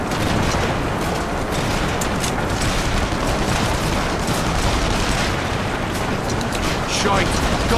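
Gunfire in the World War II action game The Saboteur: dense, continuous bursts of shots and blasts form a loud, unbroken wall of noise for the whole stretch.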